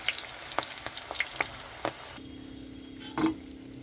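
A gram-flour battered water lily flower fritter fries in hot oil with a crackling sizzle and scattered pops for about two seconds, then gives way to a steady low hum with one brief louder burst near the end.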